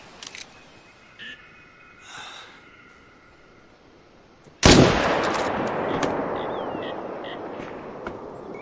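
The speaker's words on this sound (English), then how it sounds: "I'm going to go ahead and take a shot" Rifle gunshot while hunting in the video game theHunter: a single loud, sudden crack in a quiet outdoor setting, followed by a long rolling echo that fades slowly. A few faint clicks and soft breaths come before it.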